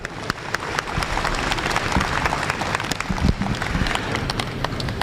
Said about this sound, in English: One more round of applause for Catherine Marks